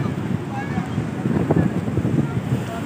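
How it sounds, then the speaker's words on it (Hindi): Sea waves wash onto the shore at a sea view, a continuous rushing surge mixed with gusty wind across the microphone, with voices faintly underneath. "भाई ये लहरें आ रही हैं"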